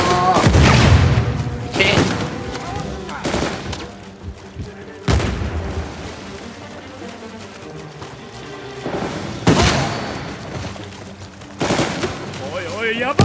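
Repeated thunderous explosions and bursts of gunfire in the Uncharted video game, five or six heavy booms spaced a few seconds apart with a short spoken word among them.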